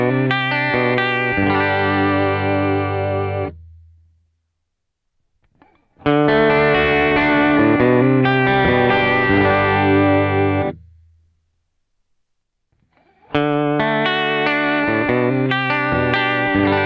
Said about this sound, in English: what about a bit of vibrato?